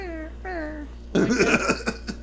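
A voice imitates a kitten with two thin, high mewing cries, followed by a burst of louder, rougher vocal noise.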